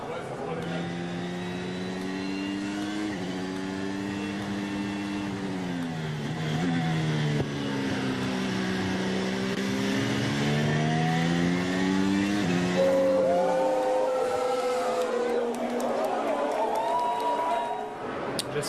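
A Formula 1 car laps during Spanish Grand Prix qualifying, its high-pitched engine rising and falling through gear changes for a long stretch, with a commentator's voice talking over it.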